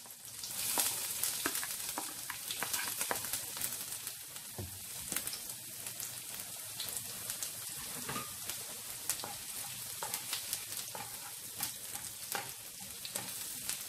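Garlic and ginger fry in a pan with a steady, bright crackling sizzle, punctuated by repeated light scrapes and taps as the pieces are stirred throughout.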